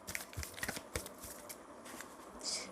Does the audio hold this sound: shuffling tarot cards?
yes